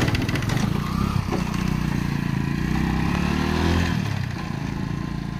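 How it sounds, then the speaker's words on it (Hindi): A motorcycle engine runs loudly and close by while towing a four-wheel farm trailer on a test run, revving steadily with clattering rattles from the hitch and trailer. "तो ये ट्रॉली का बाइक से फुल टेस्टिंग लेते हैं।"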